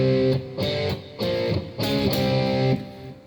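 An electric guitar with distortion plays a riff, a few chunky stabbed chords in a steady rhythm, close and loud with no talking.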